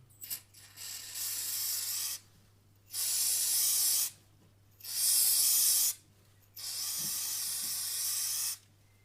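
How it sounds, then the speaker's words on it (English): White lithium grease sprays from an aerosol can in four loud, hissing bursts of about two seconds each, with short pauses between them, during motorcycle centre-stand work on a 1980 Kawasaki Z650 restoration. "I'm using white lithium grease. It's in a handy can. So we'll just put that on."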